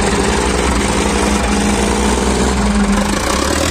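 Eicher 557 and Sonalika 60 HP tractors run their engines during tochan pulling tests in Haryana, a loud, steady, close diesel rumble with no pauses.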